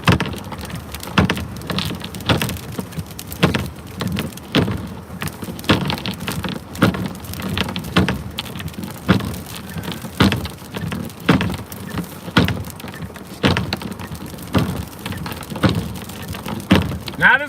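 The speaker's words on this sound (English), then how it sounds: "This is some pretty heavy freezing rain now coming through in bands." Heavy freezing rain pours down steadily during a winter storm in Upstate South Carolina, a dense continuous hiss with irregular louder gusts and drops, no talking.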